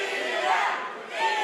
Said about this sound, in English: And here goes the crowd trying to get Ian back to the top of his game again